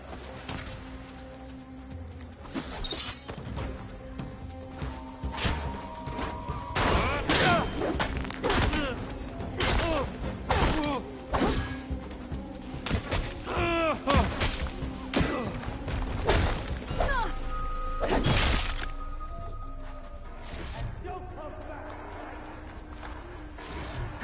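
Gunfire and impacts in the video game Horizon Forbidden West, with a dense run of thuds, crashes and shattering bursts over several seconds, mixed with shouted game voices and a steady background score.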